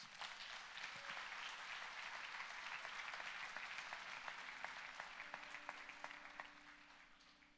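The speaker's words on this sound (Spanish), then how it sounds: "Un aplauso a Jesús." A church congregation applauds during a Spanish-language Christmas sermon, sustained clapping that grows into sharper individual claps near the end, heard at a moderate distance with no talking.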